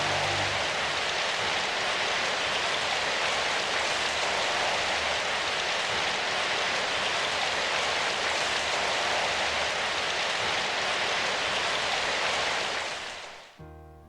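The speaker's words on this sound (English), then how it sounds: "Oh, listen to that rain." Steady, heavy rain falls across a broad, dense wash of noise at an even, loud level throughout, cutting off abruptly near the end.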